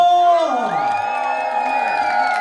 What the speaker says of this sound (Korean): 우리 친구들 잘했다고 소리 한번 질러주세요.